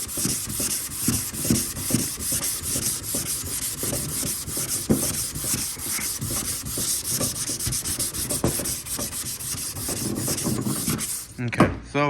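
A sanding block is worked back and forth over primer on a car body panel, producing a continuous, close, rhythmic scratchy rasp that carries on without pause.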